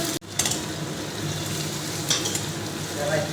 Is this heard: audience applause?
no